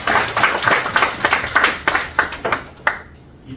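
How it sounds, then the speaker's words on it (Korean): A congregation at a Korean men's fellowship morning church service claps for the pastor, a sparse round of distinct, fairly close hand claps that thins out and stops after a few seconds. "저에게 은혜의 말씀 주신 목사님께 다시 한번 뜨거운 박수"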